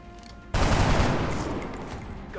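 A single sudden gunshot bursts out in the XCOM Long War strategy game, loud and close, with a long rumbling reverberant tail fading over two seconds after a quiet lead-in.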